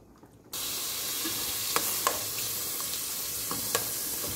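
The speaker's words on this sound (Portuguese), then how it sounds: "vou colocar aqui a minha calabresazinha, né? A linguiça, pra fritar." Calabresa sausage frying in a thin film of lard in a pan gives a steady, close sizzle that starts abruptly about half a second in, with a few sharp pops and crackles scattered through it and no voices.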